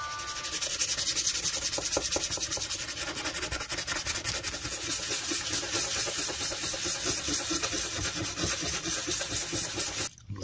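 Fine 1000-grit sandpaper rubbed steadily over a vintage knife blade, a close, continuous scratchy hiss with quick back-and-forth strokes, broken only by a brief pause near the end.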